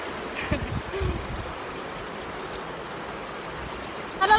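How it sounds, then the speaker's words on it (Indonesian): A river stream at Limeng beach in Aceh flows with a steady wash of water, overlaid by a few brief thumps and knocks and a sharper rustle near the end. "jadi kita lagi di Sungai Pantai Limeng guys"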